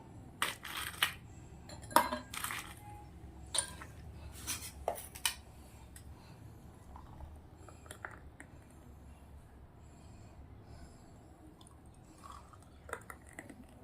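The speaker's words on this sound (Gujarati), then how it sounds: "અંદર થોડી થોડી આઈસ નાખી દઉં છું" Ice cubes dropped into serving glasses for masala buttermilk (chhaas): a handful of sharp clinks and rattles in the first few seconds, then a quiet room with a couple of faint taps near the end.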